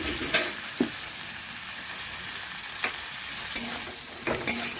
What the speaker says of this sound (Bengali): মশলার বাটিটা ধুয়ে একটু জল দিয়ে দিচ্ছি।